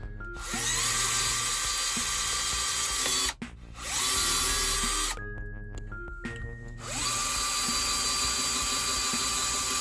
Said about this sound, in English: So I'm actually going to put this on the back and I'm going to tape it to it and drill through.